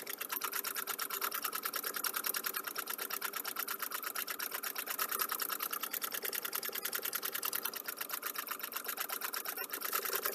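Embroidery-style sewing machine running nonstop on personalised flannels, a fast, even mechanical rattle of needle strokes, close and fairly loud throughout with no talk.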